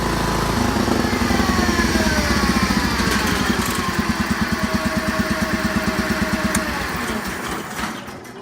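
John Deere 314 garden tractor engine idling close by, a steady chugging putter with a regular firing pulse that fades slightly toward the end.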